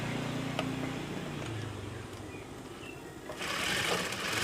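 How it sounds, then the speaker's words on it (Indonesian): A sewing machine runs steadily, stitching a pocket onto a woman's blouse, its close, continuous motor hum rising slightly toward the end, with no talking. "Kemudian dijahit dari atas."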